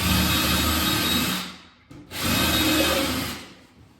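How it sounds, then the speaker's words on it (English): A power drill whirs steadily, pauses briefly, then spins up again for a second sustained run, loud and close, drilling at an angle into a concrete basement. "Drill down at an angle."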